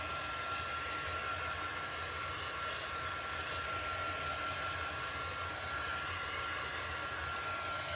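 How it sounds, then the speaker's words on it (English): An embossing heat gun blows a steady, even hiss of hot air, running continuously and close by with no talk over it. "what I'm using right now is a heat tool. This is actually an embossing gun"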